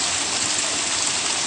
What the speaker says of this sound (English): This is the second waterfall I've encountered on Falls Hollow Run.